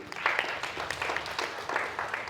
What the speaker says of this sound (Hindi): जोरदार ताली आपके लिए।